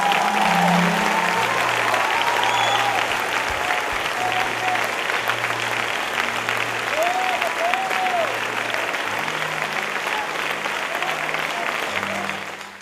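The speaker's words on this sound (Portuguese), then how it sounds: "eu quero ver você dar uma salva de palmas a Jesus" A church congregation claps in sustained, dense applause for the full stretch, loud and steady, fading slightly at the end, with voices and music tones faintly under it.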